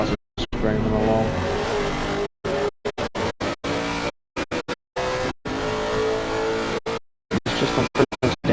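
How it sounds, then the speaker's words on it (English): Onboard a GT3 race car at Valencia, the engine screams at high revs through repeated upshifts and throttle changes, loud and close, with commentators talking over it and several short audio dropouts. "Looks like cars are screaming along."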